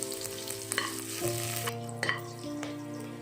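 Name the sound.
sautéing garlic and green chilli in a pan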